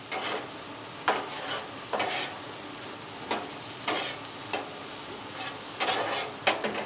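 Steak and parmesan cheese are stirred and scraped around on a hot griddle top, a low sizzle broken by repeated sharp metal spatula scrapes roughly once a second, close and clear with no talk.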